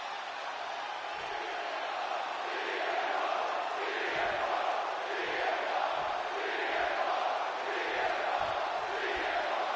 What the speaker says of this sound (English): just listen to this crowd here in Chicago